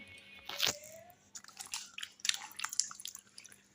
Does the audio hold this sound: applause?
no